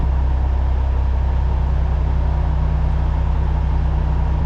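A Cummins diesel truck engine with a trailer idles close by, a loud, steady low rumble that holds unchanged from start to finish with no other sounds.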